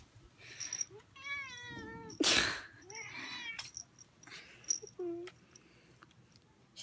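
A pet cat meows repeatedly close by, drawn-out wavering cries mixed with a brief loud rustle, short chirps and light handling noise, with a voice speaking briefly nearby.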